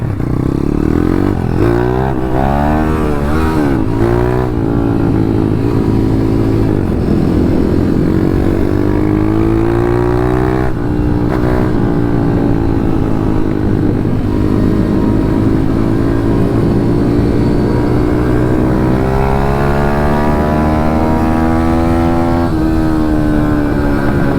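A 150 RXF pit bike engine revs hard and loud up close, its pitch climbing and falling repeatedly in a sustained, raw roar with no pauses.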